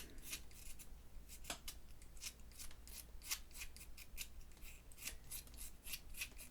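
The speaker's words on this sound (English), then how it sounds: "I'm just shaving the wood off of this thing, trying not to cut my finger off" A sharp blade shaves wood from a pencil in repeated quick scraping strokes, close and fairly quiet, each a short dry rasp in a steady rhythm with no talking.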